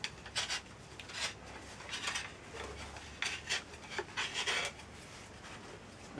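A Windsor chair leg bottom turned against a metal wall to round its end, paring off wood shavings; a run of short, dry scraping rasps recurs in uneven bursts, fairly close and quiet, with no talking.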